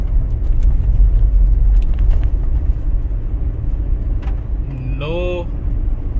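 A 2019 Toyota 4Runner Limited fitted with Ironman Foam Cell Pro suspension rolls along a gravel road, giving a continuous low tire-and-body rumble with crunchy texture and a brief squeak near the end.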